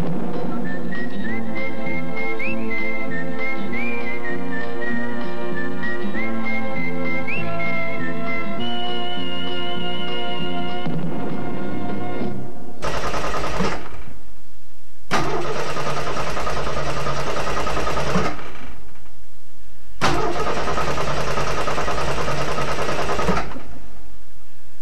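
A Plymouth drag racing car engine revs hard and loud, with a rising whine under music at first, then three long, roaring full-throttle bursts separated by short gaps.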